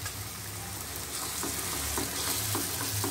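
Whisked yogurt being stirred into tomatoes in a hot pan for chicken kofta curry; a close, continuous sizzle with soft scraping stir strokes and no talking.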